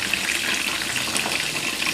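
Mushroom 65 frying in hot oil, a steady close hiss and crackle of sizzling that runs continuously without pause.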